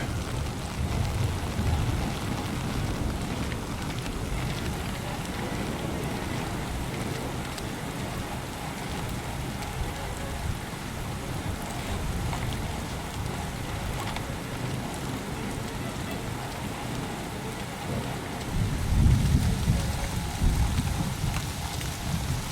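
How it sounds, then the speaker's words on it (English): Steady heavy rain in a video game pours down in a continuous hiss, with a low rumble of thunder swelling near the end, and no voices. "Man, it's really raining."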